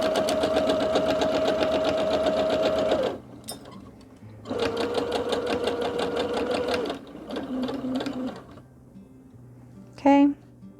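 Sewing machine running straight seams on scrap fabric, loud close buzzing bursts separated by short pauses for pivoting, with someone talking between runs and a few quick clicks at the end.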